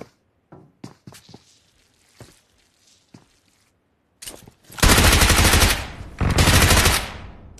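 Gunfire in PUBG Mobile: a few scattered single shots and soft taps, then a loud burst of automatic fire lasting about three seconds that pauses briefly and resumes, close and alone.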